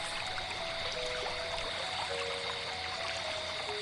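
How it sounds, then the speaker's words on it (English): River water ripples and trickles in a steady, soft stream, a continuous faint burble with no voices, heard evenly from start to end. "As they played in the water, Rita taught Barry how to listen to the river's melody"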